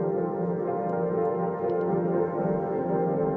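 A modular synthesizer patch run through a Versio effect module gives a dense, sustained ambient drone with layered steady tones and a few faint high blips, with no talking.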